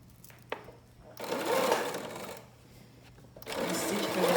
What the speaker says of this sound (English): Right here we put the zigzag stitch, number 3.